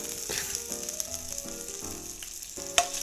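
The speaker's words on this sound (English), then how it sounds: "Okay, so I fried this a little bit." A burger patty fries in a pan with a steady, close sizzle that runs throughout, with a small clink of utensils near the end and no talking.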